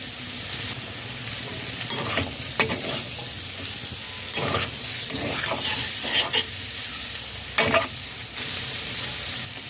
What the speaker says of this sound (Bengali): লো টু মিডিয়াম ফ্লেমে পাঁচ মিনিট নাড়াচাড়া করে নিয়েছি